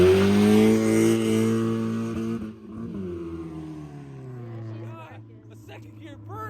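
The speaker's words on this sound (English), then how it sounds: "A second gear burnout." A Mazda Miata doing a second-gear burnout, its engine held at a loud, steady high-rev drone that then drops and settles lower, with brief voices near the end.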